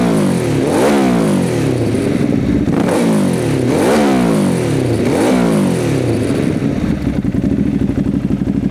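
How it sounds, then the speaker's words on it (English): Motorcycle engine revving through a worn exhaust being tested, loud and close, with four rising and falling rev sweeps followed by a rough, steady idle. "Let's rev it up."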